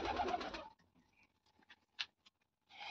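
A pigeon hen gives a brief soft coo and wing or feet patter in a quiet room, the first half second carrying a louder cooing burst, then only faint scattered rustles before another low coo near the end.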